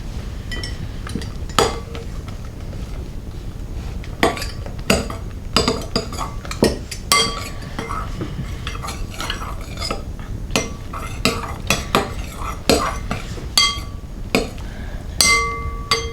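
A spoon stirring and scraping fluffy slime in a bowl gives repeated irregular clinks and taps against the bowl over a soft mushy background, close and fairly loud, with no talking.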